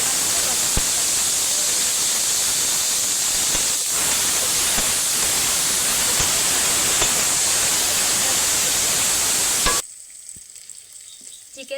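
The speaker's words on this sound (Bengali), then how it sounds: "প্রথমে বিনস আর গাজরটা দিচ্ছি, অর্ধেক ভাজা হয়ে এলে ক্যাপসিকাম দিয়ে দেব।" Beans and carrots frying in hot oil in a pan for chicken fried rice, a loud, dense, steady sizzle that cuts off abruptly near the end.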